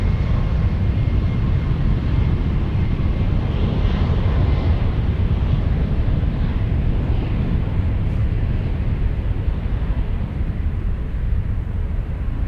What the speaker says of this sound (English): Captain Rick flying to Vancouver. He's taking a CRJ 900 to Vancouver